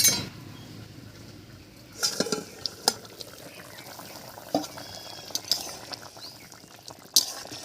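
A lid comes off a pot of cauliflower and potato curry cooking on the stove, with a bright metallic clink and rattle at the start and a few more sharp clinks of cookware over low kitchen noise.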